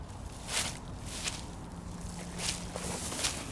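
Footsteps on the grounds of Norwich State Hospital, a few soft crunching, squishy steps at an unhurried pace, fairly close but quiet, over faint outdoor background noise.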